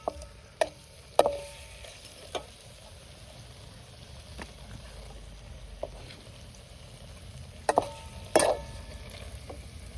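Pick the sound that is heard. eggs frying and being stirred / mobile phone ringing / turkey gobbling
eggs frying and being stirred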